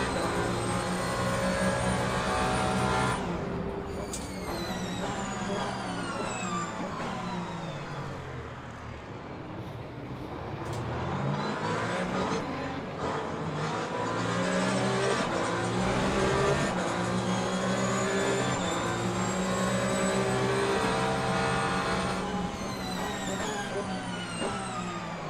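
A Toyota race car in the Le Mans Ultimate racing game roars through a continuous online race, its engine revving up and down through gear changes, with other cars around and loud sustained engine noise throughout.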